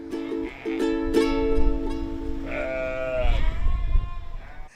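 A sheep bleats loudly and repeatedly during shearing, with drawn-out wavering cries close to the microphone over low shuffling and handling noise.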